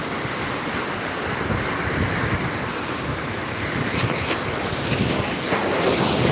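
Sea waves wash in on Gandhi Beach in Pondicherry on a morning shore. A continuous broad rush of surf and wind holds steady, with a slightly stronger swell near the end and no voices.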